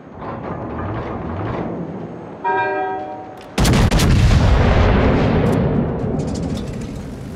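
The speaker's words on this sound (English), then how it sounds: "All stations requesting fire on the designated target." Heavy naval guns fire in the World of Warships carrier battle: a sharp booming salvo lands in the middle of the clip and rolls on into a long, loud rumbling roar, over earlier quieter gunfire and a brief rising tonal alert.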